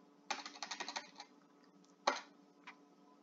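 Quick bursts of typing on a computer keyboard while a file name is entered, a rapid run of close, crisp clicks followed by a pause and two more isolated keystrokes.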